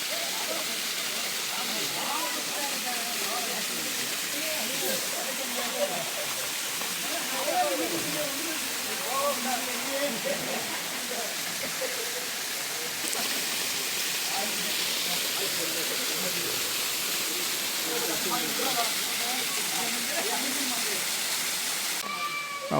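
Suruli waterfall pours lightly with a steady, close broadband rush that fills the whole stretch at an even level, while people's voices murmur faintly underneath.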